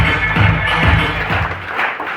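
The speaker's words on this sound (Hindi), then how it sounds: "एक बार उनके लिए भी जोरदार तालियां होंगी।" Applause from an audience at a seminar-style gathering, steady dense clapping heard throughout at moderate loudness with no talk over it.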